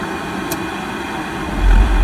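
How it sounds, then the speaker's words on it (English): A steady mechanical hum runs throughout, and near the end a low rumble swells as a Pentair MasterTemp 400 pool heater kicks on and keeps running. "we'll give it a second until we actually hear the heater itself kick on"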